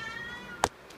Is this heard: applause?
no